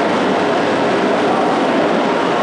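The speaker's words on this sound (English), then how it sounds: "Bowl chopper is used for making hot dogs and also making bologna." A bowl chopper cuts meat with added spices for hot dogs and bologna, giving a loud, steady, dense whirring roar with no voices over it.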